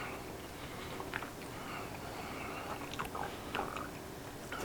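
Someone chewing cooked lamb breast ribs, soft wet bites and crunchy chewing up close, irregular and fairly quiet against steady background noise.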